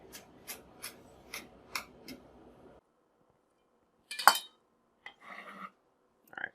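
A kitchen knife chops an onion on a cutting board in a steady run of six crisp, evenly spaced strokes, then falls quiet before a few scattered clinks and scrapes.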